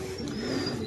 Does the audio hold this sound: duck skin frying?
no